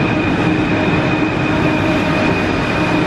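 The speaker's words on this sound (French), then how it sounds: "La première étape, c'est de prendre le métro." A Paris metro train rolls along in a loud, continuous rumble heard from inside the car, with a steady high whine over the wheel and track noise.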